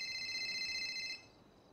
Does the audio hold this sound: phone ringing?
yes